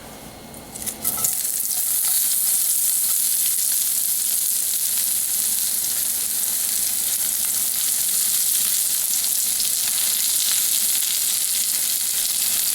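Chopped onions and garlic hit a hot pan for a potato dish and settle into a loud, steady hiss and crackle of frying that carries on without a break, with no talk.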